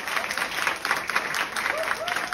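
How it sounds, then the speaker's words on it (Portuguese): A crowd at a Brazilian patriotic talk applauds, a full, steady wash of clapping filling the whole stretch, with a faint voice or cheer rising briefly near the end. "Pode aplaudir mesmo o nosso país."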